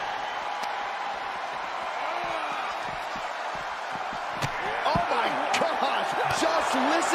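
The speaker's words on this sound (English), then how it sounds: "Listen to the crowd roar." A video game arena crowd in WWE 2K23 roars and cheers continuously during a SmackDown wrestling match, with thuds and slams from the ring and a commentator talking over it, growing louder near the end.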